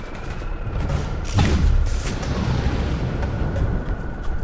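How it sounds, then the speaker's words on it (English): A sudden boom bursts out from a vehicle seat during a Borderlands co-op firefight, a loud close blast rising over continuous rumbling vehicle and gunfire noise. "Yeah, I got the random explosion."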